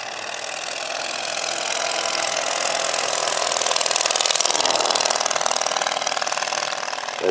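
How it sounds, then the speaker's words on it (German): A small piston engine powers a giant XXXL scale model Blériot XI airplane, its buzzing whine swelling as the throttle opens, then easing slightly, loud and close, with no talk. "Gib doch mal ein bisschen Gas, Helmut."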